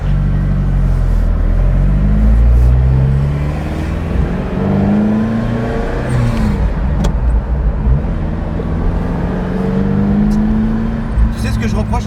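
A Ferrari's engine runs loud and close, rising and falling in pitch as it revs, and people talk over it throughout.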